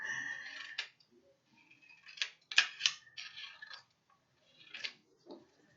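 Scissors snipping through small paper number cards for a tens-and-units maths activity, several separate crisp cuts close by with quiet pauses between them.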